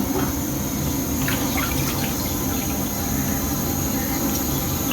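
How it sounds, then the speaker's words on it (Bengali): Water running steadily from a tap as meat is rinsed and cleaned in a home kitchen, a continuous broadband wash with faint voices in the background. "মাংসগুলো আর কি ধুয়ে টুয়ে পরিষ্কার করে নিতেছি"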